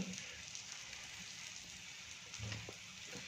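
Stuffed palak paneer paratha frying in butter on a hot pan gives a faint, steady crackling sizzle that runs unbroken for a few seconds, soft and close, with no voices.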